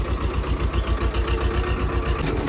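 A tractor engine labours in hard, compacted farm field soil, a loud close throbbing chug with a steady rapid pulse running continuously, no voices.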